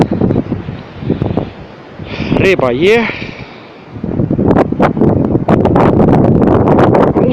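Gusty wind over a frozen-weather river buffets the microphone in heavy, uneven rushes, with someone speaking briefly in the middle before the loud gusts return.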